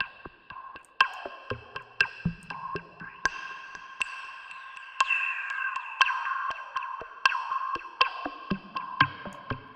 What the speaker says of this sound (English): Fun things with reverb and processing and filtering.